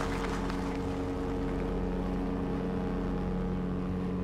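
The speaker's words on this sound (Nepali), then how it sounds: "इन्जिनबाट त पानी जहाजको आवाज आयो त।" Steady engine drone of a ship, a low rumbling hum with a faint higher whine, running continuously and fairly close throughout, with no talk over it.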